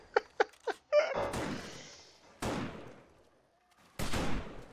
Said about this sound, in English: look at those bullet shots